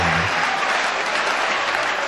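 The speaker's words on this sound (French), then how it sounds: "merci d'applaudir pour lui, l'applaudissement très fort" Loud, dense applause from an audience, steady clapping throughout with no voices standing out.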